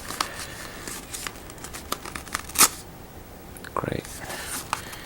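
Razer keyboard packaging being opened by hand, with scattered crinkles, soft tearing and plastic rustles, close and uneven, plus a couple of sharper snaps.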